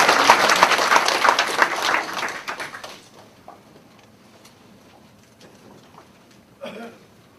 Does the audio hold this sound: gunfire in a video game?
no